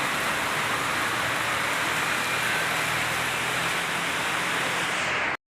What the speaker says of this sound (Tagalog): Kusog kay ulan